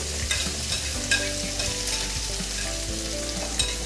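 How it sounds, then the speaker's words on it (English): Carrots, green peppers and other vegetables stir-fry in hot oil in a pan, a steady close sizzle broken by the scrape and clatter of stirring, with no talking. "Still got the oil and stuff in there, so now we're just gonna add our vegetables"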